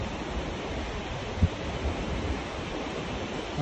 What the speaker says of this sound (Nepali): अनि यो चाहिँ तपाईँको नदीमा बग्छ यसरी